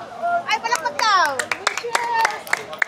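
Group clapping by children and adults at a McDonald's on a Shifen old street in Taiwan, sharp scattered claps mixed with lively children's voices and chatter throughout.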